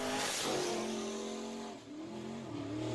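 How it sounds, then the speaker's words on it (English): A race car at a dirt speedway driven hard through the turns, its engine a loud sustained roar with the pitch rising, dipping briefly and climbing again as it powers on. "Jones driving it hard through the turns."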